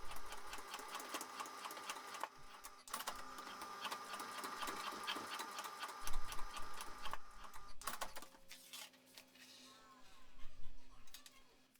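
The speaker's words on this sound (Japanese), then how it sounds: "折った部分をミシンで縫います。" A sewing machine stitches the folded ends of a zipper on a tote bag, its rapid mechanical whir running in bursts with short pauses between seams, close and fairly loud.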